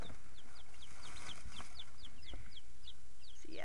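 A small backyard flock of young chickens, four hens and two roosters, making soft rapid peeping clucks in a steady chirping series, fairly quiet and close over low background noise.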